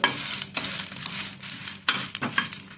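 Pepper fries in a pan over medium heat, a close, steady sizzle broken by several scraping stirs of a utensil against the pan.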